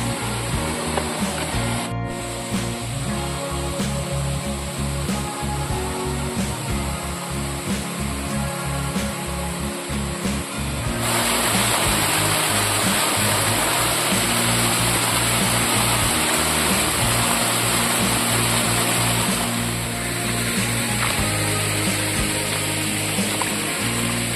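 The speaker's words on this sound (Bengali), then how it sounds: "এই যে ঝর্নার আওয়াজ" A hill waterfall roars as a steady, dense rush of water, continuous throughout and growing slightly fuller partway through.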